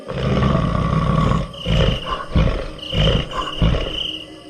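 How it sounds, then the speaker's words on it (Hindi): A monster monkey in a Hindi horror story growls as a sound effect: several loud, deep roaring bursts in succession, harsh and close, with no talk over them. "तभी वह बंदर गुर्राने लगता है।"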